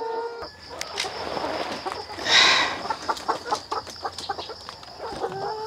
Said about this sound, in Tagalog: So nakuha na nato ang 50 ka mga manok.